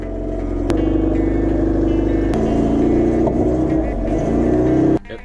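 A Volkswagen bus engine catches and runs, a loud, close, steady idle with low rumbling tones and slight revving, cutting off abruptly near the end.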